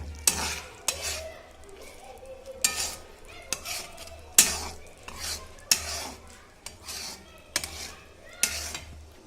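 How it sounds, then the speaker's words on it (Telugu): A spoon stirs salted Bombay chutney in a cooking pan on the stove. Repeated metallic scrapes and clanks land every second or so over a low, quiet sizzle. "వేసుకున్నాక మళ్ళీ దీన్ని శుభ్రంగా కలుపుకోవాలి"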